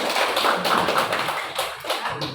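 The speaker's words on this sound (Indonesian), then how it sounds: "Kita beri aplaus untuk Davi." A classroom audience gives a round of applause for a student, a dense and steady patter of many hands clapping close by that lasts a couple of seconds without letting up.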